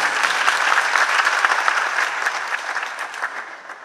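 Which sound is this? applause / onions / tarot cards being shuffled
applause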